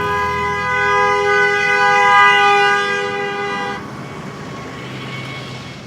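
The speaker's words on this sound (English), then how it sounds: "I don't know why they're honking a horn." Car horns honking in street traffic, heard from an e-bike: a loud, steady horn blast holds for nearly four seconds, then cuts off and leaves only the rumble of passing traffic.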